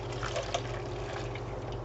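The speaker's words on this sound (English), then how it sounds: "we're just going to dump that potato water" Hot potato cooking water dumped into a kitchen strainer, a steady rushing pour and splash of liquid heard close up over a low background hum.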